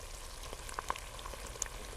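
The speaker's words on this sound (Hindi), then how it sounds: "प्याज हमारी अच्छे से पक गई है और हल्की हल्की आवाज़ सुनिए इसकी" Onions sizzle softly in a pan, a low steady crackle with a few sharper pops scattered through.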